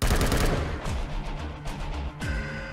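Rapid machine gun fire rattles in a co-op zombie-shooter video game styled after Call of Duty Zombies, loud bursts of close shots with a brief pause before a final burst, no voices.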